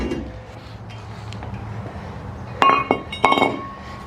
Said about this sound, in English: So now we're gonna pull this rotor off.